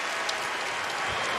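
A crowd at a Rupp Arena basketball game claps and cheers in a dense, steady wash of applause through the whole short stretch.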